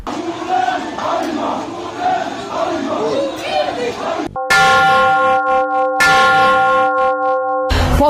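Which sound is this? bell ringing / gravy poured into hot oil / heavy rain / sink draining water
bell ringing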